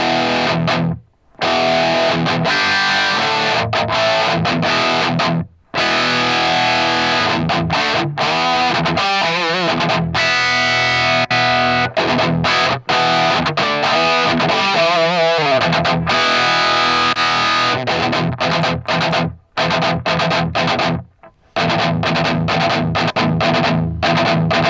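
An electric guitar runs through Axe-Fx III and Axe-Fx II amp modelers with matched settings, playing heavily distorted, sustained chords and riffs for a long stretch, loud and continuous with a few brief stops.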